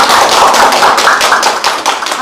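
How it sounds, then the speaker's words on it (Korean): A theater audience claps loudly and continuously after a film screening and Q&A with the directors, dense close-up applause throughout. "박수로 감사드립니다"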